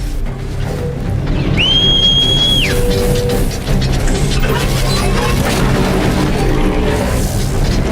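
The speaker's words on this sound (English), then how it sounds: "So the whistling you're hearing was Guy calling for his mount to come" A single rising, sustained whistle sounds in Horizon Zero Dawn as a mount is called, lasting about a second over loud, dense game noise of crashing and rumbling machinery throughout.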